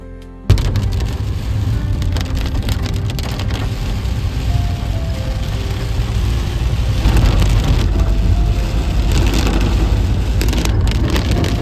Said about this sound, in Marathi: आणि इथला पाऊस